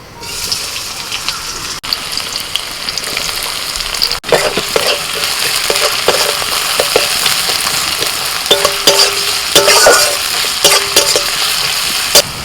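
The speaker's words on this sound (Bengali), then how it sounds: "কড়াইতে কিছুটা সর্ষের তেল দিয়ে দিয়েছি ওই তেলের মধ্যে দিয়ে দিচ্ছি পেঁয়াজ কুচি" Chopped onion frying in mustard oil in a wok crackles with a loud, constant sizzle while a spatula stirs and scrapes in repeated bursts, close up and with no voices.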